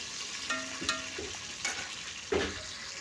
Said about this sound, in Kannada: ನಾಲ್ಕರಿಂದ ಐದು ಹಸಿ ಮೆಣಸಿನಕ್ಕೆ ಸೇರಿಸ್ಕೊಳ್ತೀನಿ ಸ್ವಲ್ಪ ಫ್ರೈ ಆಗೋವರೆಗೂ ಬಿಟ್ಬಿಟ್ಟು